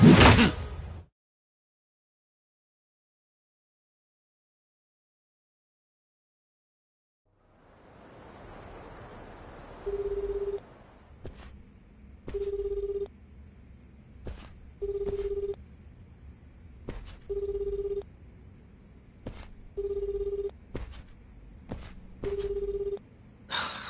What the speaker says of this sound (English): Looks like they turned off Kiryu-san's phone.